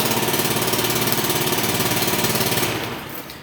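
A scooter engine with a faulty exhaust running nearby, a loud steady rapid putter with a rough, pulsing rasp that fades slightly at the end.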